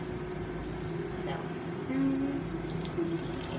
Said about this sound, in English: I'm going to fill up to 4 ounces with warm water.